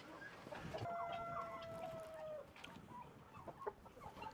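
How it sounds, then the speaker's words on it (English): Chickens cluck and murmur at low volume, with a rooster's drawn-out call and scattered squawks against a quiet farmyard backdrop. "There's a bunch of roosters in here"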